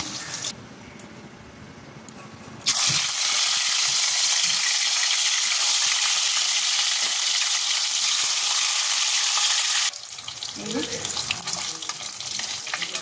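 Loud, steady sizzling of paneer tarka curry frying in a pan, preceded by quieter clattering and returning to softer stirring sounds near the end.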